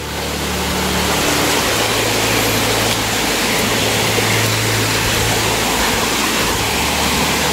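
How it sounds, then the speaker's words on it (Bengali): A waterfall on the Napittachora trail in Mirsarai roars as a loud, dense, unbroken rush of falling water, heard close and steady throughout with no voices. "এই যে এখানে একটা ঝর্ণা মিয়া।"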